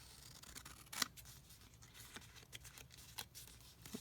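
Big scissors trimming paper for a scalloped tag topper craft: a few quiet, crisp snips, one sharp cut standing out, then lighter intermittent clicks and paper rustle nearby.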